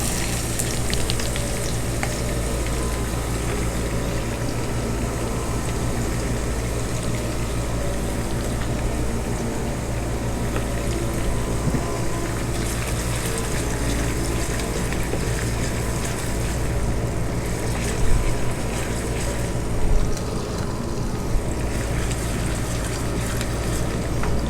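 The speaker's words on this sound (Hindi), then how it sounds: "अब हम इसी पैन में प्याज डालेंगे और इनको गोल्डन ब्राउन करेंगे।" Onions frying to golden brown in a pan for an aloo arbi taro root and potato dish: a loud, dense, continuous sizzle close up, with occasional stirring knocks and no talk.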